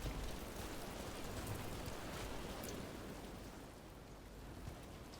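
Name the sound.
rain in a video game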